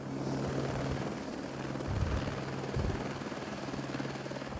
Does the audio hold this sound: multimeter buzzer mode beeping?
no